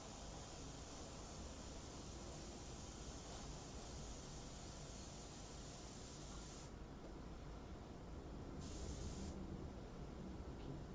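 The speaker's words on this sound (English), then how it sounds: "I'm going to come in with the airbrush and do an on-purpose blue shift here" Airbrush spraying paint for a full-color fashion portrait, giving a steady, continuous airy hiss that runs unbroken throughout, with a slight rise in brightness near the end.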